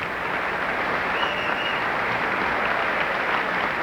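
Members of Congress applaud President George H.W. Bush in the chamber before his address, a dense, steady roar of clapping heard at a distance with no break.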